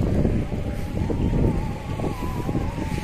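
Strong breeze buffets the microphone outdoors on a walk through a waterfront neighborhood in Davao City, a steady low rumble of wind noise with gusty swells.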